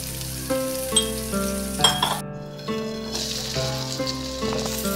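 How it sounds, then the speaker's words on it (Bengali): Chopped onions frying in mustard oil, with a soft continuous sizzle and occasional clinks of a utensil against the pan, heard alone with no talk. "পেঁয়াজটা একটু হালকা ভাজা হয়ে গেলে"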